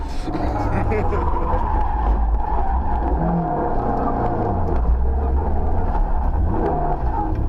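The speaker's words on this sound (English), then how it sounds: "just came into the corner a little bit hot. Spun it around a little bit far" A rally car on a Targa New Zealand tarmac stage skids and spins in a corner, a loud engine roar with scrubbing tyre noise running throughout, close to the listener.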